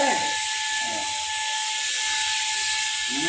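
An electric paint spray gun hisses loudly and continuously, a steady, close, airy spray with a faint whine under it.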